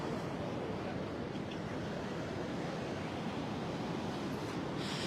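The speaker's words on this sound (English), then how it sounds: "He hears the waves crashing." Steady surf of ocean waves breaking on a beach at a sea turtle release, a continuous broadband wash with wind rumble and no talk.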